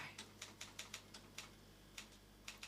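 Typewriter keys clacking in a quick, uneven rhythm of sharp strikes with short pauses, fairly close and crisp over a quiet room hum.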